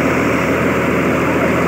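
Mitsubishi 6M61 225-horsepower engine of a combine harvester runs at a steady idle, a constant broadband drone with a low rumble, close and continuous without change.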